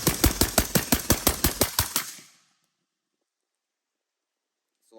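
Suppressed rifle shots from 220-grain rounds fired through a SilencerCo Omega 300 suppressor come in a rapid string of about a dozen sharp cracks, evenly spaced and close, then cut to silence.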